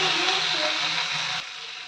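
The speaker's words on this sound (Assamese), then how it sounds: "এতিয়া মই গোটেইখিনি মিলাই পিনে যেতিয়ালৈকে বিলাহীটো নিসিজে তেতিয়ালৈকে মই গোটেইখিনি ভাজি ল'ম" Tomato frying in a pan with cumin, coriander and chilli, a steady bright sizzle that holds evenly, then drops a little in level near the end, with no talking.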